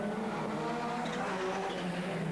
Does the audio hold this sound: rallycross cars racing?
yes